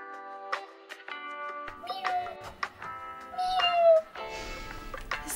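A cat meowing several times, with rising and falling cries of varying length, close and clear, mixed with a person's voice and scattered household noise in a quiet room.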